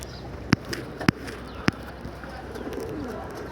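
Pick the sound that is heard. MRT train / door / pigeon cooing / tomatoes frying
pigeon cooing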